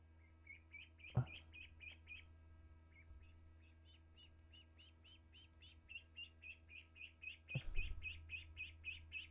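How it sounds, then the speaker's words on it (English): Ducks in a Minecraft-style game server give a run of repeated squawking calls, sparse at first and then rapid and insistent toward the end, with two brief louder thumps breaking in along the way. "They like if they're not near each other, they start squawking"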